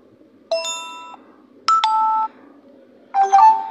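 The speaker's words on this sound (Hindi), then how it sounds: "आप जिस नोटिफिकेशन साउंड पर क्लिक करेंगे वो आपके सामने प्ले हो जाएगा" Three short electronic notification tones from a Nokia mobile phone play one after another in quiet, each a bright chiming beep pattern lasting under a second, separated by brief silences.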